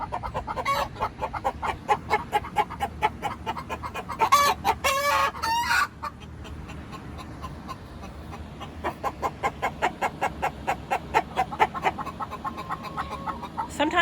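Young backyard hens cluck and trill in a steady, rhythmic sing-song, with a brief louder squawking burst partway through, close by over a low outdoor hum.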